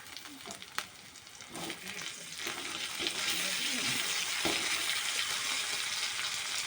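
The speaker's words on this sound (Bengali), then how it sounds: "পেঁয়াজটা একটু লাল খড়খড়ে করে ভেজে নেব" Onions fry in a pan with a soft sizzle and a few clinks and stirs, then the hiss swells into a louder, steady frying once ginger paste goes in.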